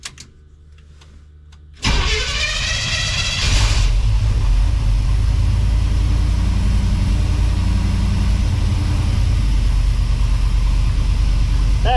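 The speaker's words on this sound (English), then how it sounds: "I want to see if I can get this thing to crank and start from a key" A Willys engine, fuel switched on, is cranked from a key: after a near-silent start, a loud starter whir lasts about two seconds, then the engine catches and settles into a steady, close, rumbling run.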